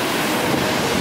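Strong waves in bad weather heard from a small boat heading out off Zambales, a dense rushing wash of water and wind, loud and continuous over one second.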